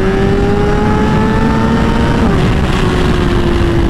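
A 1000cc motorcycle pulls hard in second gear, a loud, close engine roar climbing steadily in pitch before easing slightly, with heavy wind noise throughout.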